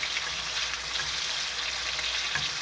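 Liver steak fries in a pan with a steady, close crackling sizzle that holds at an even level throughout, with faint occasional clinks and no talking.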